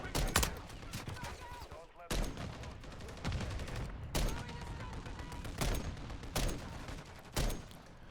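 Rapid sniper rifle fire in a video game battle, loud sharp cracks repeating every second or two with continuous combat noise between them, no talk over the shots.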